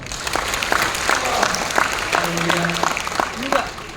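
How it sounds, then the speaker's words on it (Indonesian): An audience at a motivational talk claps throughout, a dense continuous applause with a few voices calling out over it. "Tepuk tangan untuk mereka."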